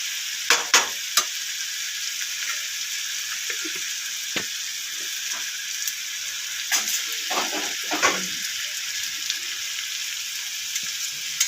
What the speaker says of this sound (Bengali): ঘিটা একটু কম হয়ে যায়, একটু ঘি দিয়ে দিলাম, বেসনটা তো ভাজতে হবে মধ্যে।